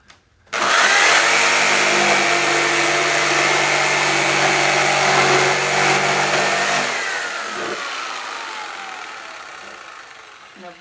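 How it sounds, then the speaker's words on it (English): Jigsaw cutting a wooden Halloween cut-out, a loud steady buzzing whine that starts abruptly, runs for several seconds, then winds down as the blade slows, with no talking. "come back with my jigsaw blade. Should fit straight in them holes now."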